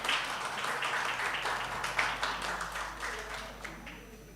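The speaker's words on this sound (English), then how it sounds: "Please give applause." Applause from an audience at an international seminar, a steady patter of many hands clapping that gradually tapers off over a low room hum.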